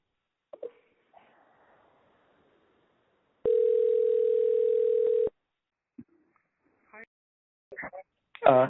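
A steady telephone dial tone sounds for about two seconds while a call is placed, set between scattered clicks and handling noises, with brief voice fragments toward the end.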